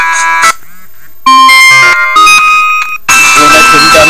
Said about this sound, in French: Vous avez sonnerie assez forte.